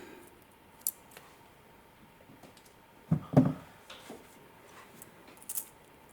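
Cutters trim wire on a wire-wrapped tree-of-life pendant: one sharp close snip stands out amid a few faint clicks and small handling ticks in a quiet room.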